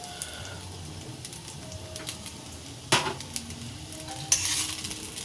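Fried rice being stirred with ghee in a pan, with soft, steady sizzling under light scraping and a few louder clinks of a spoon against the pan.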